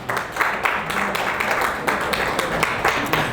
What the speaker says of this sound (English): Can we put our hands together for her?